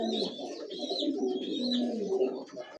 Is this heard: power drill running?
no